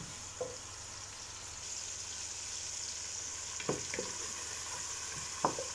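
Onions fry in a pan for a Middle Eastern rice dish, a soft steady sizzle with occasional scrapes and taps as they are stirred, fairly quiet and close, with no voices.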